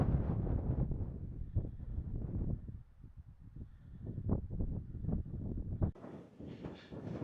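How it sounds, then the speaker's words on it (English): Gusty wind buffets the microphone on a Scottish mountain summit in the Campsie Hills, with loud rumbling bursts that rise and fall and a hissier gust near the end. "It feels awful windy"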